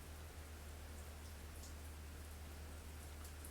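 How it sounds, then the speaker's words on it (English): Rain falls outside in a soft, steady hiss with a faint patter of drops. A low constant hum sits beneath it, and the whole sound stays quiet and unbroken. "it's raining again"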